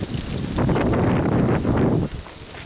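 Strong wind gusts of about 50 mph roar through blowing leaves, rising to a loud, rushing surge that holds for over a second and then drops away sharply.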